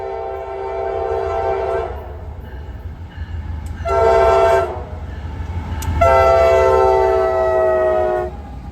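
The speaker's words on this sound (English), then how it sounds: "bringing back a grain train, 4 in power." A grain freight train hauled by four locomotives passes, with a steady heavy rumble of rail cars and several loud, sustained horn blasts that stop and start.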